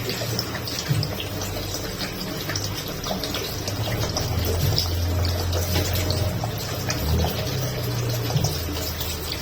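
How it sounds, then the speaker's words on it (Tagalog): Water running steadily into a cooking pot for boiled pork hock, a continuous loud splashing gush over low background rumble, with no talk. "Lagyan natin ang tubig."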